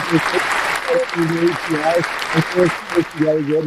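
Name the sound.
applause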